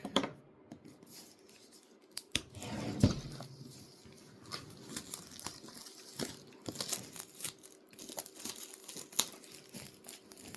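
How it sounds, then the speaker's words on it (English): Plastic packaging being cut with scissors up close: crisp crinkling and rustling with a few sharp snips and tears, fairly quiet and irregular, with no talking. "cut the plastic."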